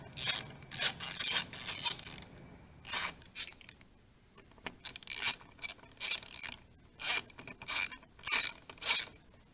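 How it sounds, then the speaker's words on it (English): Screws on a motorcycle clutch reservoir clamp, 2014-and-newer bagger, are backed out with a T27 Torx bit, giving repeated short rasping, ratcheting bursts close up, with brief pauses between turns. "take out the clutch reservoir clamp screws"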